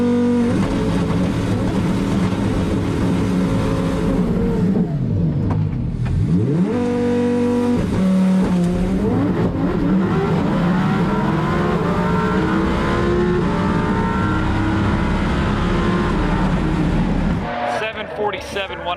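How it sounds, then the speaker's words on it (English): A Lamborghini on a drag racing pass, its engine revving loud and close with rising pitch sweeps as it accelerates through the gears, sustained for most of the run before tapering at the end. "Let's see if he can break the Lambo record again on this pass."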